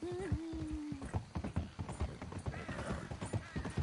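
A horse in Red Dead Redemption 2 clip-clops along at a steady walking rhythm with a brief whinny at the start, while a voice talks quietly underneath.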